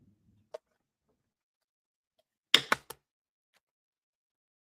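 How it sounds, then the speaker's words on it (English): Dice rolled onto a surface: a cluster of three quick, close clattering hits after a single earlier tap, then faint ticks in a quiet room. "I'm going to roll the dice"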